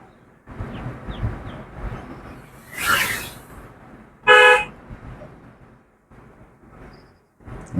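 A car horn gives one short, loud honk midway through, heard from inside a car making a U-turn during a driving lesson, over a low rumble of engine and road noise with a fainter toot earlier.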